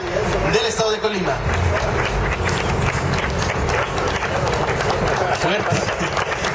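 Strong applause for a state culture secretary at a mural event, dense continuous clapping mixed with crowd chatter, loud and steady throughout.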